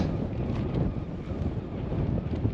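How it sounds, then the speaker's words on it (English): Low, rumbling gusts of a strong force 5 westerly wind by the sea buffeting the microphone, a continuous blustery roar with no voices. "It's pretty windy."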